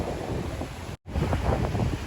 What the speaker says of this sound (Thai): ลมแพงค่ะตอนนี้ก็ลมแพงค่ะทุกคน